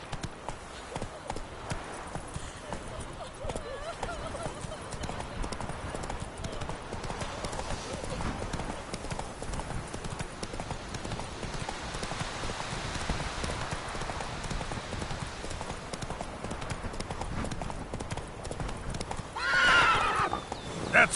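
Roach the horse galloping in The Witcher 3, a continuous rapid clip-clop of hooves with a rain-like hiss, a neigh near the end, and voices speaking over it.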